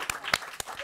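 A few sharp, scattered claps, about four distinct hand claps spaced unevenly, fairly close and brief.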